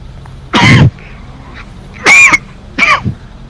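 Three loud, harsh coughing bursts from one person, close to the microphone and spaced about a second apart, each a short throaty explosion over quiet background hum.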